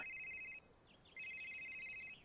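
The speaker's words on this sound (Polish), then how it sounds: "Uh, that sound. It's my phone." A phone rings in the video game Someday You'll Return: two bursts of steady electronic ringing with a short pause between them. The ringing is clear and close, with no talk over it.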